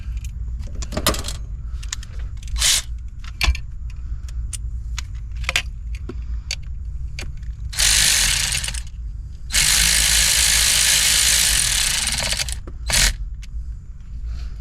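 A ratchet tightens a ground screw on the AC blower motor of a 1991 Chevy pickup, heard as close, quick clicking bursts with rustling and metallic handling between them. Two longer, louder stretches of broadband noise come partway through.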